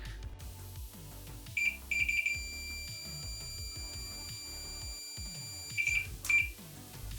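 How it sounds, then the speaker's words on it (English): A multimeter continuity tester beeps while probing for a short on a ZX Interface 1 board, giving a few short high beeps and one sustained tone over quiet faint clicks and handling noise. "I went a bit nuts with continuity testing, looking for shorts, and I actually did find a short"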